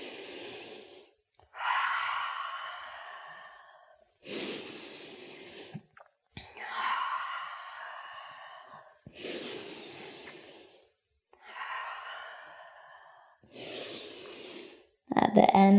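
Heavy, rhythmic breathing during a vinyasa yoga flow, long audible inhales and exhales alternating in a steady cycle about every two seconds, close and breathy, with a brief voice at the end.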